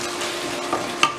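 Crab stew with seasoning cube and seven-vegetable broth is stirred in a pot, giving a steady close simmering hiss broken by two brief utensil scrapes or knocks against the pot.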